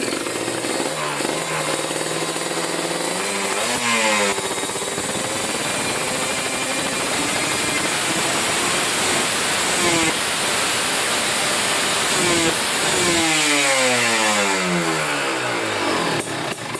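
An open-intake engine runs loud and steady, then climbs to high RPM in a couple of rising revs, holding a harsh, buzzing roar throughout with no one speaking.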